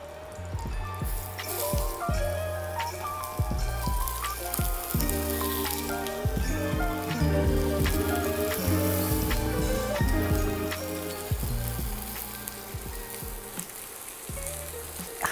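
Food cooking on a hot pan brushed with a little oil over medium heat, a dense close sizzle and crackle with soft knocks and scrapes running throughout, no talk.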